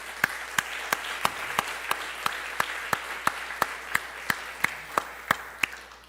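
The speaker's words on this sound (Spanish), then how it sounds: "¿Por qué no le damos un aplauso al Señor?" A church congregation claps together in a steady, even beat, about eighteen sharp claps spaced evenly across the whole stretch over a soft background hum, with no talking.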